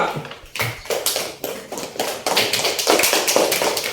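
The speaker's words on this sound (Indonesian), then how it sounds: "tepuk tangan untuk kelompok 2" Classroom applause for a student group, a flurry of hand claps from several children, sharp and close, uneven at first and then building into steady, denser clapping that continues to the end.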